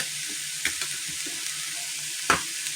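Onions simmering gently in a pan for supper, a soft continuous hiss with a few faint clinks and one louder knock of a utensil, close and without talk.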